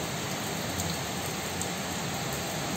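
Steady rain falls on a hot day after temperatures of 36-37 degrees Celsius, a continuous even hiss of drops with no thunder and no voices.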